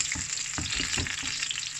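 Ingredients sautéed together in a pan for an eggplant dish: a continuous bright sizzle with soft scraping stir strokes, close and loud, no speech.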